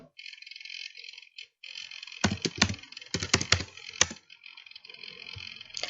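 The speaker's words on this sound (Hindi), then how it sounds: "लास्ट नेम यहाँ पे टाइप करके देख लेते हैं" Typing on a computer keyboard while entering a last name into a salary spreadsheet, with irregular clusters of sharp keystroke clicks over a steady background hum, no talking.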